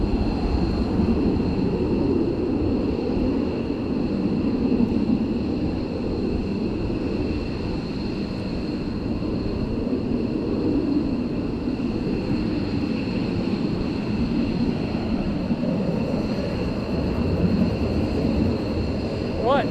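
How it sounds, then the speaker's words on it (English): Boeing 767 airliner taxiing at RAF Lakenheath air base, a steady whining jet engine hum with a broad rumble, moderately distant and unchanging throughout. "So we do have the 767 taxiing to our right."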